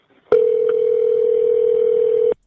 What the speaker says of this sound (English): This phone call.